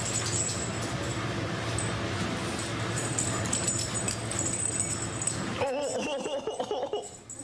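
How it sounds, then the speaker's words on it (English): A dog whimpers and lets out yips in a room, its thin high cries coming close and fairly clear, with people talking over and around the whines. "You brought me a dog."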